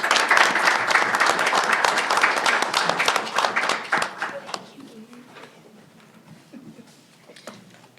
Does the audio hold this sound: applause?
yes